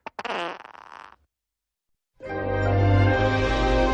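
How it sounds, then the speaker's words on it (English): A cartoon fart in an animated comedy sounds out loud and close, with a brief burst of sound near the start, then silence, then a long, sustained, rumbling fart that runs to the end without any voices. "That fart I have at 3, can you push that up to now?"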